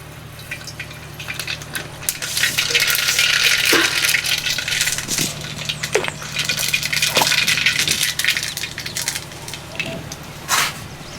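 Mustard seeds spluttering and popping in hot oil for tempering a village colocasia and moong dal curry, a steady crackling sizzle with scattered sharp pops, close and fairly loud.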